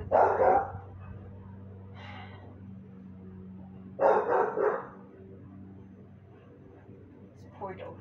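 A dog barks behind an indoor yoga class in several short, sharp bursts spaced a few seconds apart, moderately close, over a low steady hum.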